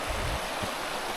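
Clear, slightly greenish mountain stream flowing beneath a small footbridge on a trail near Bled and Bohinj, Slovenia, a steady close rushing of water with brief low thumps.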